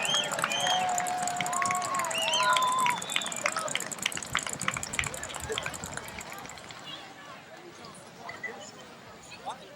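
A stadium crowd at a 2002 Mount Carmel Area Red Tornadoes versus Selinsgrove high school football game applauds the senior cheerleaders, a broad wash of clapping and cheering with whistle-like tones that gradually fades.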